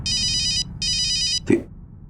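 A telephone rings with two loud electronic bursts separated by a short pause, followed by a brief knock or thud, with no voices.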